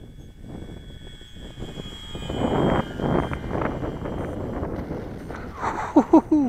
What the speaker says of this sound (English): You can just hear that propeller churning up the air.